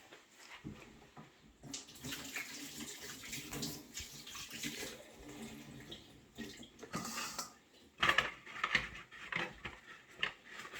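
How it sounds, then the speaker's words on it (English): Hands being washed under a running kitchen tap while preparing a tropical fruit juice: a soft, steady stream of water with faint splashes and brief louder gushes, fairly quiet and without speech. "I'm going to wash my hands"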